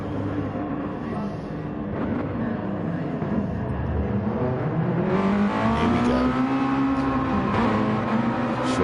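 Race car accelerating hard from a short rolling start at Laguna Seca in a racing video game, engine note climbing steadily through the gears, loud and continuous with rising harmonic whine.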